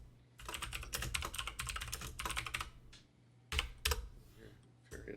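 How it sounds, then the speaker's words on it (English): Rapid, furious clatter of computer keyboard keys in bursts, with a pause before a few more sharp flurries, under a low steady hum. "I was waiting to make sure that furious typing wasn't going my way."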